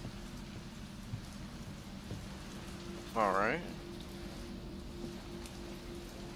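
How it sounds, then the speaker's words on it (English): Heavy rain pours outside in the video game Resident Evil 3, a steady, dense hiss beneath a low hum, while someone speaks briefly in the middle. "It's raining. Alright, let's close the window. It's pouring outside."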